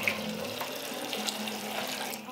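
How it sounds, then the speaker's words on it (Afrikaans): Cold water pours steadily into a bucket while fynbos beer is brewed in the Cederberg, Western Cape, a continuous close splashing rush with no talk. "Nou gooi ek met koud water in."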